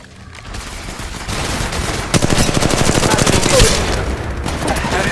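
Rapid automatic gunfire from an attacking squad in Apex Legends Mobile, loud sustained bursts of rattling shots building and holding, with a player's voice under the shooting.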